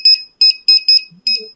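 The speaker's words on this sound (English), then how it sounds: "Sometimes it is not beeping or you don't like this beep." Five short electronic beeps in quick bursts, the first four evenly spaced and a fifth after a pause, with faint low sounds near the end.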